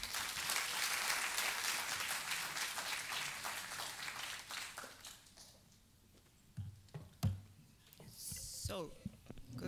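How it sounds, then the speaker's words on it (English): Conference audience applauding to welcome a speaker at a legal lecture in the Philippines, steady dense clapping for about five seconds before it thins to scattered claps and room noise. "let's all give a warm round of applause to welcome Dr."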